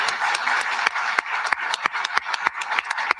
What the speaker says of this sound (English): To be clear, I was clapping for the Premier there.